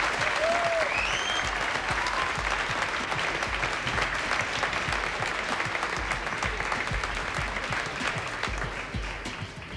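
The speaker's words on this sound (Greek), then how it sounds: "Ένα χειροκρότημα θέλω και εδώ σας παρακαλώ." Steady applause from a large live television studio audience, continuous and fairly loud throughout, with a few faint whistles near the start.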